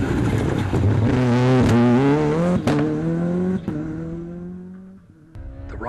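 Ford Escort Cosworth rally car blasting along a Jersey Rally stage, loud and near, engine climbing through repeated upshifts with brief lifts between gears, fading slightly toward the end.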